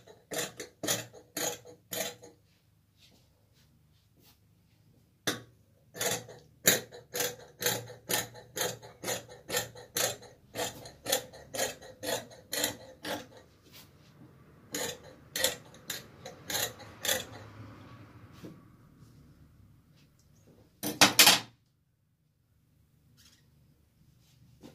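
Scissors snip through fabric while cutting out an abaya, producing crisp repeated clicks in quick runs separated by short pauses, close and fairly quiet with no talking.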